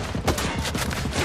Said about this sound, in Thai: มันยิงไม่หลดกระสุนเลยเนี่ย เรียบร้อยครับ มันยิงไม่พักเลย